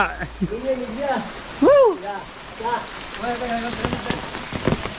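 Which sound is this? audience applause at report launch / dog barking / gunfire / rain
rain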